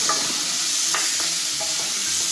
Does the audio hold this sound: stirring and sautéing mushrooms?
yes